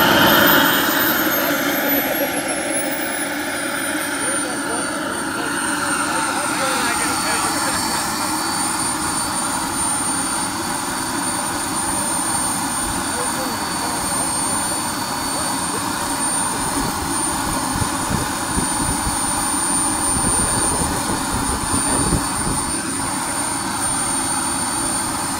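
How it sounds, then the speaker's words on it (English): A Skymaster F104 model jet with a turbine engine roars steadily and loudly throughout, a high whine over a rough broadband rush, with faint voices nearby. "right, here's Doug with his Skymaster F104"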